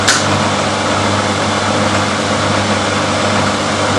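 A milling machine takes a slow, gentle cut with a slow feed rate at reduced speed. The noise is a loud, steady mechanical hum and whir with no break.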